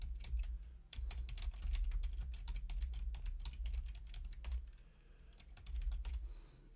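Fast, close clicks of a computer keyboard as a command is typed, bursts of keystrokes with brief pauses over a low background hum.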